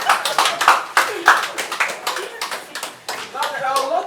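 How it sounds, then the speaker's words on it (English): An audience claps in scattered, uneven bursts, a loose patter of hands that rises and falls rather than building into full applause. "Let's give them a round of applause."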